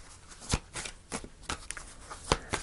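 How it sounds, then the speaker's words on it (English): Tarot cards shuffled by hand during a weekly reading, a soft riffling patter broken by several sharp, close card snaps and slaps, with no talking. "I'm going to pull the final card"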